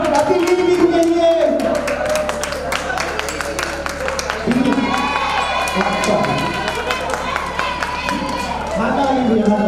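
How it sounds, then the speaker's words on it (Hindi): An audience applauds a guest invited onstage at a Jain religious gathering with aarti and a discourse. Steady crowd clapping and murmuring carry through the whole stretch, fairly loud, with a voice talking over it. "बहुत बढ़िया, शानदार तालियां अतिथि के लिए।"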